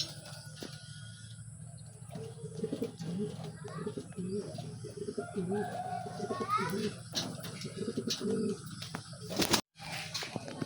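Racing pigeons cooing at a loft during a training session in San Joaquin, Iloilo, with soft repeated coos and bird calls under someone talking throughout.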